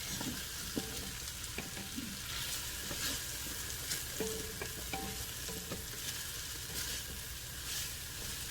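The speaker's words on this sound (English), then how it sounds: "We're just going to add that to the pot and stir that for a few seconds until it gets nice and fragrant." Finely chopped garlic frying in a pot gives a continuous close sizzle, with soft scraping taps of a stirring utensil scattered throughout and no talk.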